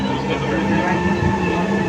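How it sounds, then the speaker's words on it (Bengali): A steady rumble of a metro train running, with a continuous low roar and faint hum throughout, a voice murmuring faintly underneath. "মেট্রো রেল অতি স্বল্প সময়ের মধ্যে আমাদেরকে এক স্থান থেকে অন্য স্থানে নিয়ে যেতে সক্ষম"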